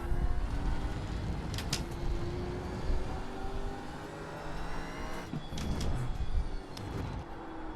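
Racing car lapping a track in a racing video game, a steady engine drone with gear and rev changes and tyre noise, with no talk over it.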